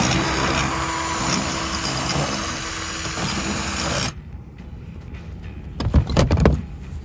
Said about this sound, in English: I got my hole saw here and I got it set to 4 inches